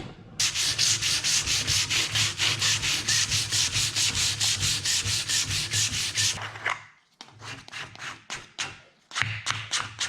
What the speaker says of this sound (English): sand some dust off.